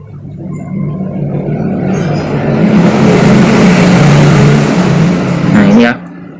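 A fully modified Honda PCX motorcycle engine revs loud and close, building to a sustained roar before cutting off abruptly, with speech present.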